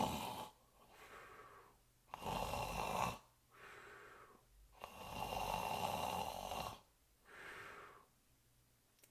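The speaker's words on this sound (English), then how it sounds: "The next morning, the princess woke to find the frog still snoring on the pillow." Slow snoring from a sleeping frog in a storybook tale, with long breathy rasps repeating at a steady pace and quiet pauses between them, low and soft.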